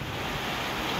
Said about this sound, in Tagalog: Pabugso-bugso yung hangin na malakas